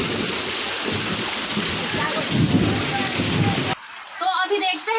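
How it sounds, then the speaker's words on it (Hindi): Heavy rain pours in a dense, steady hiss with thunder rumbling through it, then the downpour cuts away abruptly near the end as a voice is heard. "बिजली एकदम ज्यादा कड़क रहा है। वो देखो बादल की आवाज सुनो आप।"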